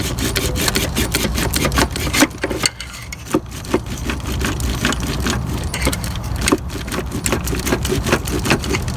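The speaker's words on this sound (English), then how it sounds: "taking a screwdriver and putting it right down there. Just kind of prying with my other hand," A screwdriver pries at the alternator on a Toyota Camry 1MZ-FE V6 in the engine bay, giving repeated scraping and clicking metal-on-metal contacts, close and irregular, with no talk.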